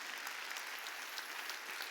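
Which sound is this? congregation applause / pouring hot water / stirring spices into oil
congregation applause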